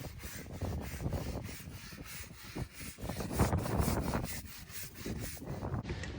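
Someone scrubs a rust stain left by an anchor chain on a sailboat deck outdoors, producing continuous close rough rubbing strokes over light wind noise.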